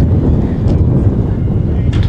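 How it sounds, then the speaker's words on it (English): Steady wind buffets the microphone at an outdoor St. Patrick's parade, a low rumbling roar that persists throughout with slight gusting surges. "I think you can hear the breeze blowing"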